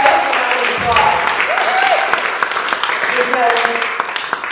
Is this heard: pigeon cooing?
no